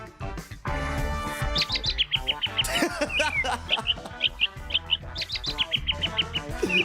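Rapid, bright bird chirps dubbed in as a censor sound cut over a loud cartoon-style soundtrack, repeating in quick bursts after an opening musical blast.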